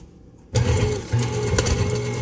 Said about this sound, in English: Go ahead and let your standing mixer do its work.